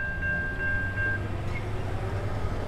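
Amtrak passenger train passing near an intermodal yard in Ferndale, Michigan, a steady loud rumble of rolling cars close by, with a brief sustained tone early on.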